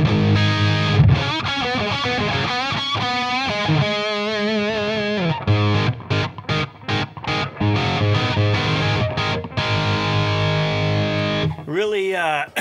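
Distorted electric guitar plays sustained, heavily overdriven chords and bends, then rapid choppy stabs with brief gaps, loud and close.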